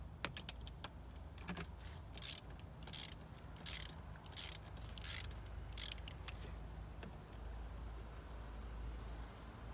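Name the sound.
ratchet removing 12mm throttle body bolts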